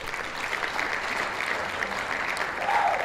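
A round of applause rises from a podcast audience, a steady, dense wash of clapping that holds for about three seconds and swells slightly at the end, with no talk over it.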